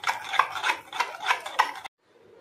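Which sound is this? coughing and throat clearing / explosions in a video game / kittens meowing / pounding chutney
pounding chutney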